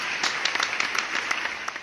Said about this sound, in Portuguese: Editora, por favor, palmas